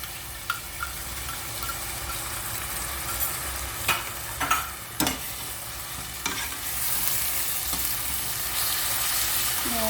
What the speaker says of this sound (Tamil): இப்போ நம்ம இஞ்சி பூண்டை போட்டு நல்லா அந்த பச்சை ஸ்மெல் போகணுங்க நல்லா வதக்கிடணும்.